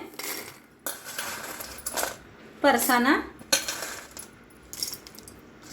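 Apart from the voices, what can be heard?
peanuts dropped into mixer jar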